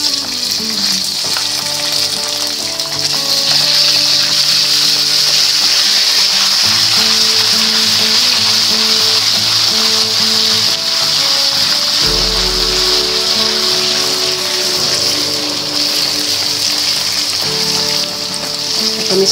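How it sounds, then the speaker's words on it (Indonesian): Spice paste for seblak sautéing in a hot pan, a dense, steady loud sizzle and crackle running throughout, with faint musical tones in the background and no talking. "kita tumis nih Bunda bumbu yang tadi"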